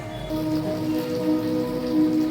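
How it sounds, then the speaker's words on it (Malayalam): Heavy rain falling on a waterlogged yard, a constant wash of patter on surfaces, moderately loud with no voices, accompanied by a faint low hum. "നല്ല മഴയാണ് മുറ്റത്തെ ഫുള്ള് വെള്ളം കെട്ടി കിടക്കണം"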